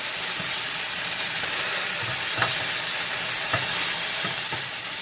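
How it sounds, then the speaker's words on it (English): Burgers searing in a stovetop pan, a loud, dense, continuous sizzle and hiss close up, with a few faint taps of a utensil against the pan. "We got that nice even sear on both sides of the burger."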